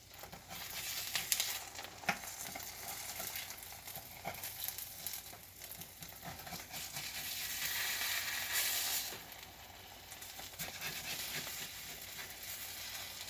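Eggs frying in a pan give a steady crackling sizzle that holds at moderate volume throughout, with faint stirring and scraping sounds on top.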